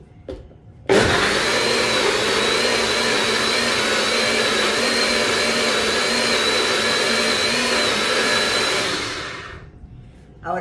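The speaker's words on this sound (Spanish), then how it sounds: "Ahora vamos a licuar todo junto para mezclarlo" An electric blender mixes honey syrup ingredients, starting abruptly and roaring at a loud, steady pitch for about nine seconds before spinning down, close by with no talking.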